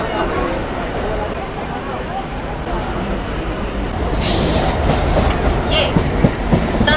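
Haldia local train standing at platform 13 of Howrah station, a steady close rumble of rail noise with station crowd babble underneath, swelling slightly toward the end.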